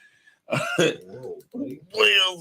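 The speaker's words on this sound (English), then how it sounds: "We don't pay you to be coughing in the mic." A person coughs and clears their throat close to the microphone, a few harsh bursts separated by short pauses.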